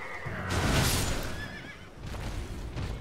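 A horse in the video game Elden Ring lets out a loud, drawn-out whinny as it is killed, with a soft thud and rumble of game sound beneath it.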